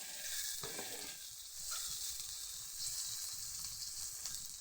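Surma fish for a tomato bhuna frying in mustard oil, giving a steady, close sizzling hiss throughout, with a couple of brief stirring clatters and no voices.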